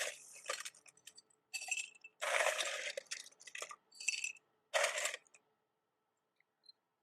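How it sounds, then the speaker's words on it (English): Ice cubes clatter into a cocktail glass in a series of sharp clinking bursts over several seconds, close and crisp, then quiet with a final faint tick. "we're going to fill our glass with some ice"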